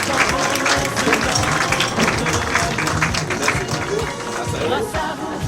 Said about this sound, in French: On se lève et on applaudit l'arrivée de l'officier de Catholique.